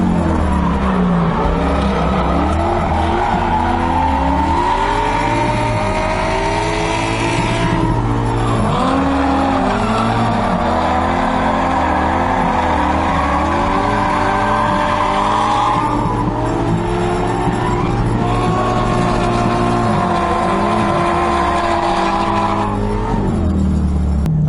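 An LS V8-swapped Mazda Miata drifting during a competition lead run, its engine roaring and revving continuously with long tire squeals rising and falling through transitions, loud and close throughout.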